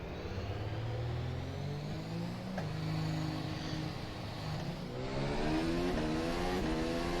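A race car engine in rFactor 2 accelerates at a Malaysia circuit on medium tyres. It revs up steadily through the gears, loud and continuous, with no talking.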